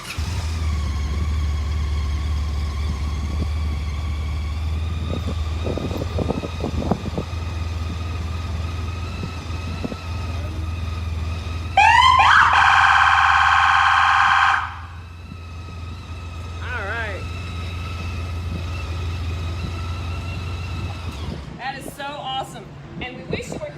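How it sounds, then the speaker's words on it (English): A police motorcycle siren wails loudly for a few seconds over the idling engine's steady rumble, then cuts off, followed by brief warbling electronic tones. "It has lights and a siren."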